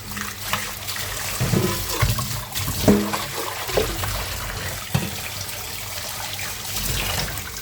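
Catfish rinsed in water in a home kitchen, with steady running and splashing water close by, irregular sloshing bursts as the fish is handled, and no talk.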